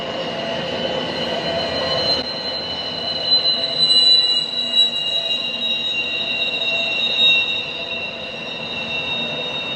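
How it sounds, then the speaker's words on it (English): A CP freight train rolls past steadily through Morant's Curve in Banff National Park in winter, with high-pitched wheel squeals ringing over a continuous rumble of cars on the rails. "this is Morant's Curve with the CP train barreling through"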